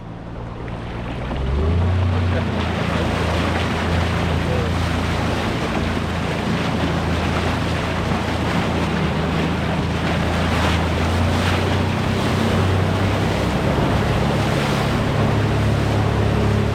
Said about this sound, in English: The water level was a lot higher than the previous week when I dragged up this rapid with Tori and the kids.